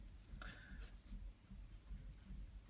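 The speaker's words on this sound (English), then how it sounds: "I'm just gonna start drawing the hair." A pencil strokes across paper while the hair of an anime face is sketched, with short, repeated scratchy marks in a steady rhythm, close and fairly quiet.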